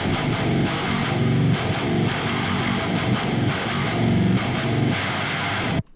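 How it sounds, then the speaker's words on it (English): A harsh, buzzing distorted tone from a rectify effect plays loud and continuous, thick with grit, then cuts off abruptly at the end. "Here we just have a generic Rectify."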